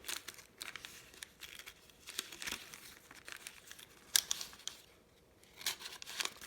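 Wrapping paper being handled and crinkled up close, with repeated dry rustling and crackling bursts, a few sharper crunches and brief quieter pauses.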